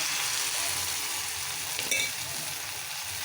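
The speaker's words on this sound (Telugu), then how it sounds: "2-3 పచ్చిమిరపకాయలు, సన్నగా కట్ చేసుకున్న ఆనియన్స్, ఇవి కొంచెం వేగాయి కదా" Green chillies and finely chopped onions frying in a pan, a steady close sizzle with a brief stir partway through.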